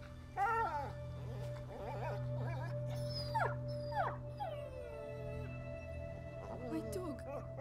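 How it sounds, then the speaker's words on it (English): A dying dog in A Plague Tale: Innocence whimpers and howls in a series of rising, wavering cries with sharp yips, fairly close over a steady low game hum. "My dog!"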